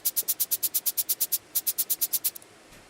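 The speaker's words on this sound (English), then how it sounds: "It's like white noise that I made hi-hats." Rapid, evenly spaced bursts of bright white noise act as hi-hats in a beat, about sixteen crisp ticks in two runs with a short gap between them, then a final quick flutter, heard alone.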